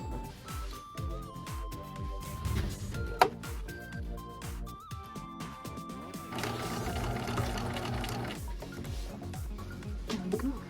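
A sewing machine runs in steady bursts while stitching a quilt layered with dryer sheets, its rapid mechanical chatter close and continuous for most of the stretch, pausing briefly and then driving on in a longer, denser run.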